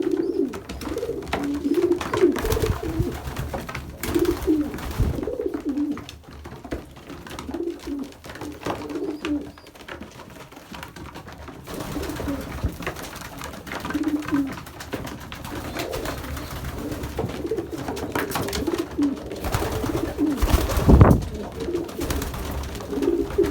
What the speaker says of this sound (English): Let me try and get some more feeding footage for you guys, for close-ups of the pigeons.